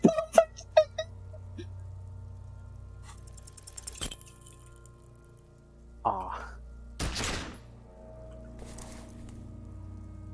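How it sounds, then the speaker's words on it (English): Gunfire from a weapon in the video game Disco Elysium, heard as a couple of sharp, loud blasts amid scattered metallic clinks and a quiet, low game ambience. "You hear an explosion within the weapon in your hands."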